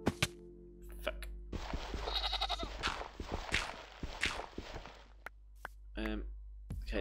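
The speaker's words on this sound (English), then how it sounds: "these goats as well do sound an awful lot that they're laughing at me" Goats in the Minecraft video game bleat in a series of short, wavering cries, several calls in quick succession against a low constant background hum, fairly close and moderately loud.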